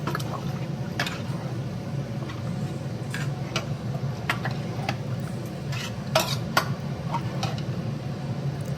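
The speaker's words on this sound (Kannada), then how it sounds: "ಎಲ್ಲ ಮಿಕ್ಸ್ ಮಾಡಿ ನೀಟಾಗಿ ಮಿಕ್ಸ್ ಮಾಡೋಣ" A spoon scrapes and clinks around a pot while stirring a thick mixture, irregular taps over a low steady background, no talking.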